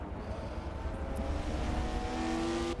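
BMW touring cars race around the Nurburg GP circuit in a sim racing game, their engines droning and revving steadily under a constant layer of motor noise, with a faint squeal of tyres.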